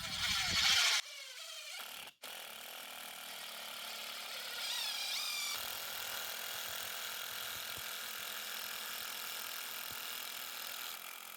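A DeWalt 18V brushless impact driver sinks a large screw. After a short burst and a pause, a long, steady whir runs at close range, with rapid impact clatter building through it.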